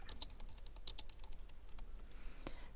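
Quick bursts of close keyboard typing as a message is entered on a computer, crisp clicks that bunch together and then thin out toward the end.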